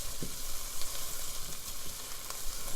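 Garlic and onions fry steadily in a pot, a dense, even sizzle with a few soft stir scrapes and clicks, close and continuous with no talking.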